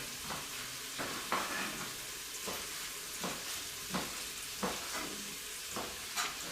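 Butter sizzles softly in a pan with chunks of fresh venison liver, a quiet steady frying hiss broken by regular scraping stirs roughly every second, with no voices.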